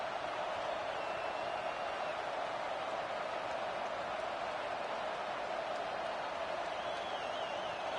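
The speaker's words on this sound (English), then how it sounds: "This crowd ready to make its presence known." A stadium crowd roars at a football game, a broad, steady wash of cheering and noise holding at constant loudness throughout without breaks.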